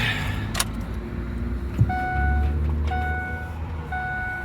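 A 2002 Ford F-250 crew cab 4x4 with a 7.3L diesel and six-speed idles with a low, steady rumble, while a cab chime beeps at regular intervals over it.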